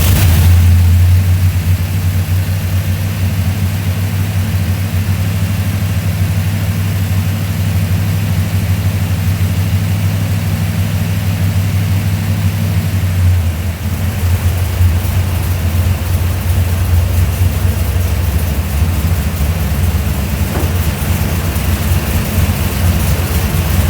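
A 580 horsepower small block Mopar V8 with 1 7/8 headers and MSD ignition runs loud and steady, a deep rumbling idle throughout with a slight change in tone partway through, no voices.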